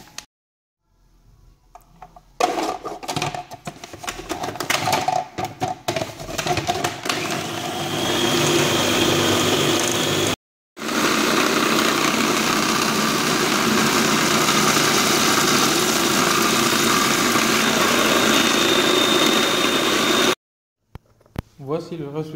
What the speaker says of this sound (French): Dans le mixeur, on va ajouter les feuilles de basilic, de l'ail, de l'huile d'olive petit à petit et du parmesan.